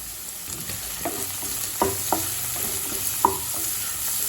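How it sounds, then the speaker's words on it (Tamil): Chopped carrot, beans and cabbage sizzle steadily in a hot pan on high flame, with occasional scraping clicks of a spatula stirring them, constant frying hiss underneath. "ஹை ஃப்ளேமில் வச்சுட்டு ஒரு 1 நிமிஷம் வரைக்கும் நல்லா வதக்கினீங்கன்னா போதுங்க."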